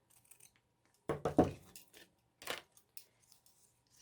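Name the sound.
pinking shears cutting fabric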